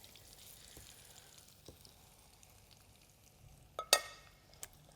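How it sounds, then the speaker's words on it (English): Breaded chicken schnitzel sizzles and fries in a pan, a soft steady crackle at low volume with a few brief clinks near the end. "So I'll pop that chicken in so you can hear that nice and sizzling."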